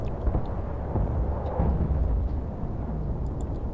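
A loud, continuous booming rumble with heavy low-end roar, a sustained explosion in Battlefield: Bad Company 2, steady throughout without a break.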